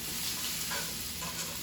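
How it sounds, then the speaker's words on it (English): Vegetables sizzle steadily while being stir fried in a cast iron pan, a dense, continuous hiss with light stirring scrapes, close and fairly quiet. "An important thing to remember when you're stir frying is to not overcrowd your pan."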